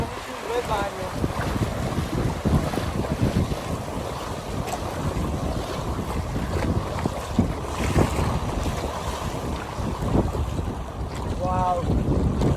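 Steady wind and rolling surf along an empty beach on the Gulf of Mexico coast of Yucatán, a continuous loud roar of gusts buffeting the microphone over breaking waves, with brief faint voices.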